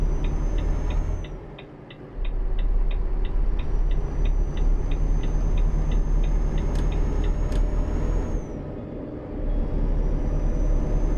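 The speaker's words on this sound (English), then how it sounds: "Oh, there's a truck coming." A truck passes close by in Euro Truck Simulator 2, a steady loud engine and road rumble with a repeating high tick and a brief dip in the noise midway.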